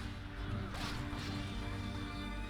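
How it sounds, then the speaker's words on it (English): Trolls smashing structures in the strategy game Lord of the Rings: The Battle for Middle-earth II, a sharp crash partway through over a dense battle din, with a voice talking underneath. "The trolls are smashing."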